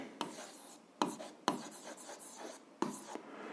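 Pen or pencil writing out an algebra formula solution on paper: short scratchy strokes in a few quick bursts with pauses between, close and quiet, with no talking.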